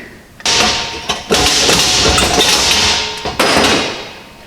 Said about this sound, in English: I got to punch out one more section of panel here